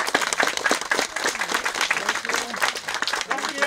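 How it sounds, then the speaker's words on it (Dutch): Applause breaks out at a wedding ceremony right after the couple is pronounced married, steady dense clapping from a gathered crowd filling the moment with no voices on top. "Er mag gekust worden en wij geven een applaus dan."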